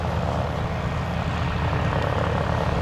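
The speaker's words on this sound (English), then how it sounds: "the taxi and the T28 Trojan" A T-28 Trojan piston aircraft taxis at the Oshkosh airshow, its engine and propeller drone a loud, steady, close rumble throughout with no speech.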